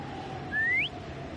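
A single rising whistle from a character calling the creature Foam in Wuthering Waves, about a third of a second long, sliding upward at the end and standing out clearly over a soft game ambience.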